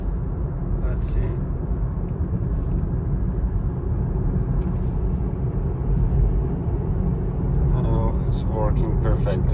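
A Tesla's cabin fills with a steady low rumble of road noise while driving, with someone talking over it for much of the stretch.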